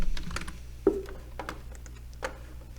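Typing on a computer keyboard: a quick, irregular run of close key clicks with one sharper tap, steady and fairly quiet, with no talking.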